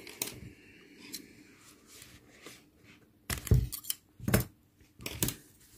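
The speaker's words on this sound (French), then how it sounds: "Et je coupe." Scissors snip through crochet yarn on a small amigurumi dog toy, three or four crisp close cuts near the end after quieter handling.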